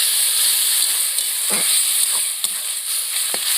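Fish sizzling in a hot pan as a little water goes in, a steady steamy hiss with a few sharper bursts and pops, close and continuous with no talking.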